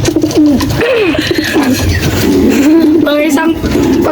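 Pigeons with day-old chicks coo close by in low, throaty warbling phrases, with someone talking over them throughout and faint traffic in the background.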